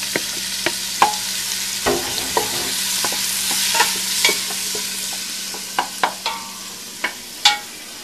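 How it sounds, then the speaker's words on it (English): Celery and onions sauté in a pan for corn chowder, a gentle steady sizzle punctuated by a dozen or so sharp clicks and knocks of a utensil against the pan, close and fairly quiet. "I'm going to saute those vegetables for the time being."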